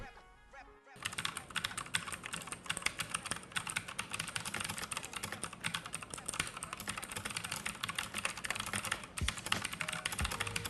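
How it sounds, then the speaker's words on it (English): Rapid, continuous typing on a Tecware Phantom RGB mechanical keyboard with blue switches, sharp clicky keystrokes rattling in a dense steady stream, close up and with no talking. "if you're wondering how audible these blue switches are, here you go"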